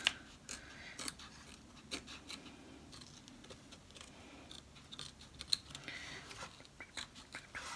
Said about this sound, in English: We're going to go ahead and cut around right here, get this fabric off